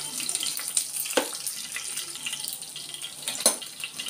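Green chillies hit hot oil in a pan, giving a soft, steady sizzle and hiss broken by a few sharp pops and clinks.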